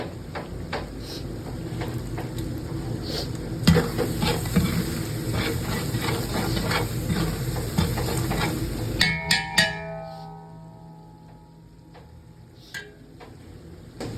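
Onion and tomato sautéing in a pan make a steady, fairly loud sizzle with light ticking spatters for about nine seconds, then the sound drops to a faint hiss with a few scattered clicks.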